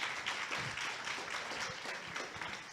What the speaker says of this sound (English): Can we give FD a round of applause?